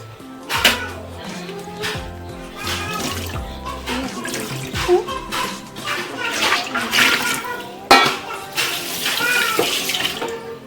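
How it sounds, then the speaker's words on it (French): Water is poured into a container of pistachio seeds to soak them while meat cooks, a steady running splash lasting throughout with a voice talking over it. "je vais ajouter l'eau à l'intérieur juste le temps que ça gonfle un peu"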